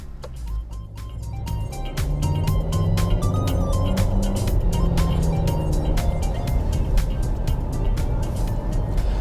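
A 2016 Volkswagen Touran drives along a road, its engine and tyre rumble steady and close throughout, with faint rhythmic ticking and clicks over the continuous low drone and no speech.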